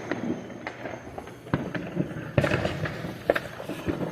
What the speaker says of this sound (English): So much fireworks happening.